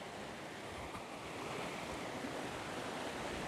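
A river at a camping spot rushes in a steady, broad wash of flowing water that grows a little louder, with some wind noise on the microphone and no voices.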